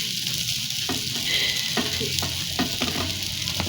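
Ghee sizzles around a makki roti cooking on a hot tawa, a loud continuous frying hiss with a few soft taps and scrapes, and no voices.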